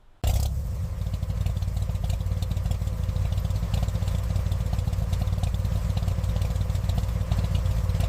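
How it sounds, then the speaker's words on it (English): An old engine starts abruptly and runs roughly, a loud, steady rattling rumble with clattering mechanical knocks throughout. "The engine struggles to turn over, shaking violently"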